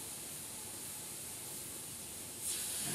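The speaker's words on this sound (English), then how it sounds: "And now we're gonna mist back over" An airbrush sprays a fine mist of transparent paint, a steady soft hiss that stays close and even, then grows slightly louder near the end.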